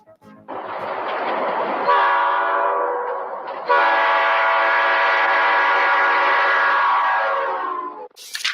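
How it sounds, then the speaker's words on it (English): A Nathan P1234A5 locomotive air horn on an Amtrak turboliner sounds loud and close in two long chord blasts, the second sustained for several seconds before fading out. "P1234A5 air horn. Here's a sample."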